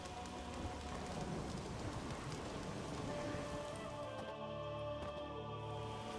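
Steady rain pours throughout in The Witcher 3, a dense, even hiss of drops on surfaces with faint tonal game ambience beneath, continuous and alone without any talk.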